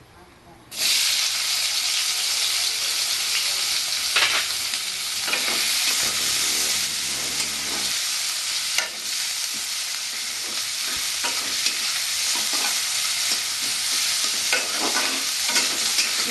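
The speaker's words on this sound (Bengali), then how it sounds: "পেঁয়াজগুলো আমি লাল লাল করে ভেজে নেব" Onions fry in oil in a pan for a Bengali-style crab curry, a loud steady sizzle starting abruptly and continuing with occasional stirring scrapes.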